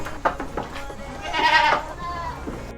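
An Assam Hill goat bleats loudly once in a wavering, drawn-out call, with a few shorter, softer bleats and bleating from other goats nearby on a raised-floor goat farm.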